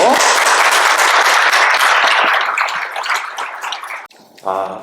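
A Sunday worship congregation at Sarang Church in Chicago gives loud, dense applause to welcome a missionary from Gambia, sustained close clapping that fades near the end before a voice begins speaking.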